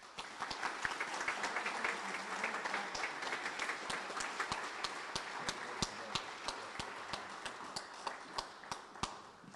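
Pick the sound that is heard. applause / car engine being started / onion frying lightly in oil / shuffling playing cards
applause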